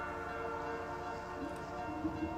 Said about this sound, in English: we're looking at a southbound train that is going toward Proctor and Duluth